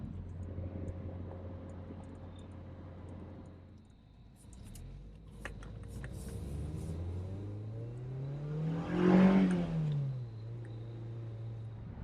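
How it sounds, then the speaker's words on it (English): Engine of a Mazda Miata heard from inside the cabin while riding, a low steady drone that dips, then rises in pitch as the car accelerates, peaking loudly before settling back to cruise. "Right now I'm riding in the Mazda, and we are doing good right now."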